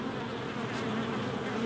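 Honeybees buzz steadily around a beehive entrance in the UK, flying in and out; a continuous, fairly close insect drone with no pauses and no talking.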